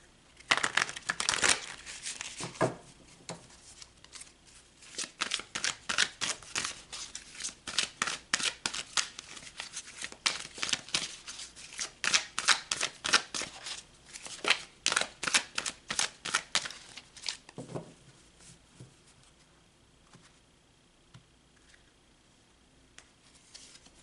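Tarot cards being shuffled for a reading, giving a long run of rapid riffling snaps and flicks that come in bursts, close and fairly crisp, before trailing off into quiet.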